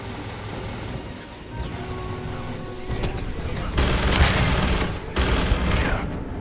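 Enemy gunfire in Starfield, a dense crackle of rapid shots and bursts that builds louder toward the end, with brief harsh blasts over a constant rumbling background.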